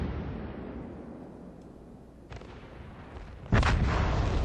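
Naval gunfire in a warship battle video game, shells landing on British battleships: a low rumbling bed of distant cannon fire with a sharp booming impact near the end that stays loud afterwards.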